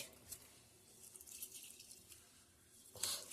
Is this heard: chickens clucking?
no